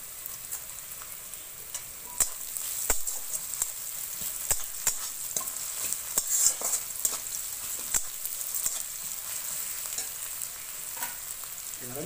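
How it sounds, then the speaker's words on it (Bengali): Garlic tossed into onions already frying in oil for a spicy puti fish and potato curry, giving a steady close sizzle with irregular clicks and scrapes as the mixture is stirred. "রসুন দিয়ে দেবো"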